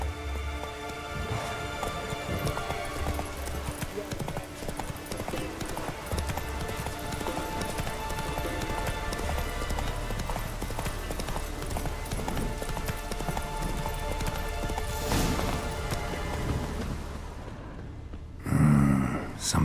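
Roach, the horse in the video game The Witcher 3, clip-clops at a steady run throughout, hoofbeats mixed with a dense layer of game music and ambience before easing off near the end.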